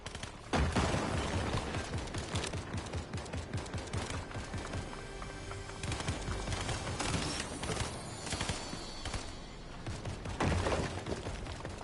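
Shotgun fire in a Fortnite Chapter 5 Season 2 battle: dense rapid bursts of gunfire and loud repeated blasts, fairly close and continuous, with other game effects layered underneath.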